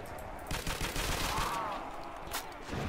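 Dense, continuous gunfire from World at War Zombies, played on a beach-town map, with rapid overlapping shots and booming low rumble, loud and filling the whole stretch.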